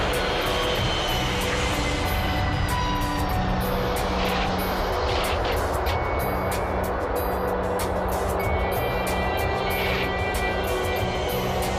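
An airplane lands on a runway with a loud, steady roar of engines and wind noise inside the cabin or cockpit, the rumble sustained throughout.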